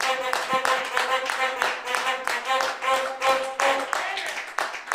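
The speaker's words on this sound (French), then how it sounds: "Donnons une acclamation au Seigneur." Congregation in a church service clapping in acclamation, a steady patter of hands mixed with singing or cheering voices throughout.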